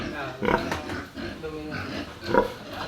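A sow grunts and snorts in short bursts nearby, with a person talking over the sounds.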